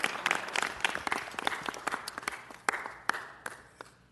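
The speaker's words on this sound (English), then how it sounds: "Give him a round of applause." A crowd at a city council meeting applauds in dense, close clapping that thins out over a few seconds toward scattered claps.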